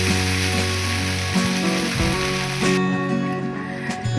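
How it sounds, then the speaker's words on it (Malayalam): Tomato chutney in the Saravana Bhavan style bubbling and sizzling in a pan, a loud continuous crackle with occasional stirring clinks and no speech. "ഇപ്പോൾ വേണ്ടേ നമ്മുടെ തക്കാളി ചട്നി അത് തിളച്ച് തുടങ്ങിയിട്ടുണ്ട്"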